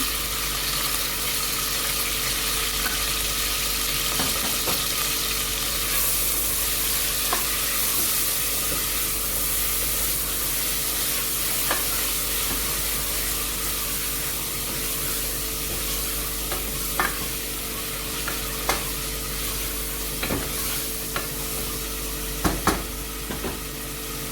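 Steady oil sizzle and frying hiss as garlic, ginger, tomato and onion fry, with occasional stirring clatters and scrapes, continuous and close, no talking.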